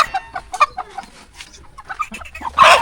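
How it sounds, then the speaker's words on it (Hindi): An Aseel desi hen clucks repeatedly in short, close bursts, ending in a louder, drawn-out squawk. "ये एक मुर्गी देखें, ये बिल्कुल असील किस्म की देसी मुर्गी है।"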